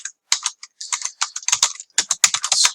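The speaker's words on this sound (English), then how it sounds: "here you will have to type in the address" Close keystrokes on a computer keyboard as an address is entered into hotel management software, irregular bursts of crisp clicks with short pauses between words.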